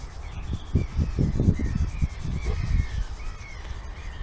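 A Royal Enfield Classic 350 engine casing is polished by hand, giving close, rhythmic rubbing strokes in quick bursts, with faint bird calls in the background.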